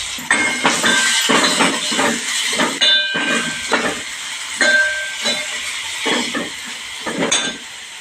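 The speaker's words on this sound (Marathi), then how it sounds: "त्यावर आता हा मी बारीक चिरलेला कांदा घालणार आहे" Finely chopped onion dropped into hot oil with crackling mustard seeds sizzles loudly in a home kitchen, with bursts of hiss and spattering that rise and fall in repeated waves.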